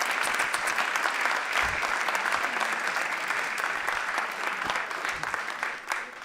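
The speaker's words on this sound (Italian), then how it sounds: "Un applauso a Enrico, grazie" A comedy show audience gives a performer named Enrico sustained applause, steady and fairly distant, fading slightly toward the end with a few faint voices underneath.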